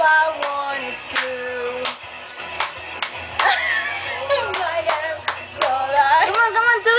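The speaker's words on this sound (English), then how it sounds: "Clap your hands, sweetie." A seven-and-a-half-month-old baby girl claps her hands, giving repeated light slaps at an uneven pace, mixed in with an adult talking and singing close by.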